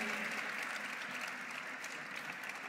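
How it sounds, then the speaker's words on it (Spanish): Steady applause from an audience at an evangelical congress session, many hands clapping together in a continuous wash, somewhat distant and fairly soft. "Un aplauso fuerte, vamos a ponernos de pie."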